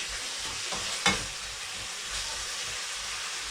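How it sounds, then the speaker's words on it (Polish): Food frying and sizzling in a pan over high heat, a steady close hiss with one brief clatter of stirring near the start. "Na dużym ogniu i niech to się podsmaża."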